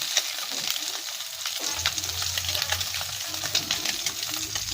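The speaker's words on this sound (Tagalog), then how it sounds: "Piniritong bitilya at snapper" Bitilya fish and snapper frying in hot oil, a loud continuous crackling sizzle with a low hum that comes in after the first couple of seconds and no talking.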